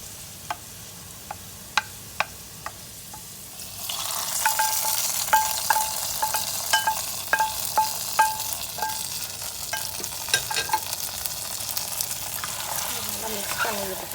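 Sweet pongal (sakkarai pongal) is stirred in a pan, a few sharp spoon taps against the metal, then a louder steady sizzle with repeated scraping clinks of the spoon as the mixture is mixed.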